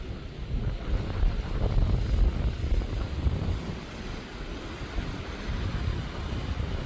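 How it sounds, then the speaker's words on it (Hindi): A waterfall in the Sural Valley gives off a steady, broadband roar of rushing water, continuous and fairly close, with wind buffeting the microphone and no voices. "हम वाटरफॉल पे पहुँच गए हैं।"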